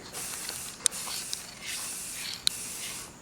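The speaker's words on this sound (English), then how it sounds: "in there spray painting it." Bursts of spray paint hiss in short repeated blasts while painting a dresser, with a couple of faint clicks between them.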